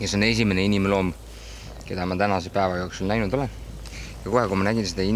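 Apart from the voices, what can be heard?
None of the usual background noises is heard.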